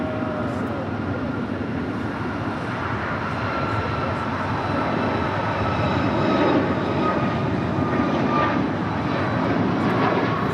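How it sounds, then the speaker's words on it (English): An Air Canada Boeing 737 MAX 8 jet departs LAX with a loud, steady engine roar that holds for the whole stretch, swelling slightly toward the end. "It's a 737 MAX 8."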